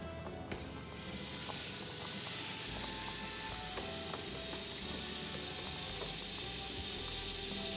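Pork sizzles loudly in a very hot pan, a steady broadband fry that swells after the first second and holds without pause, with faint clinks of utensils under it and no talk.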